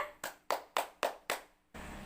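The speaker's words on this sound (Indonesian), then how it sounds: "Tepuk tangan dulu untuk kita semua." Children in an elementary school science class clapping hands in five sharp, evenly spaced claps, close and distinct, followed by a brief low room noise.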